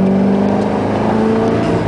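A Chevrolet Corvette C5 running rich pulls hard on a damp, busy autobahn, its steady engine roar loud and close from inside the car with a droning tone throughout.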